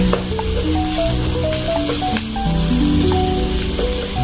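Garlic frying in butter until golden brown, a steady close sizzle running throughout with brief tonal beeps and clinks layered over it, no talk.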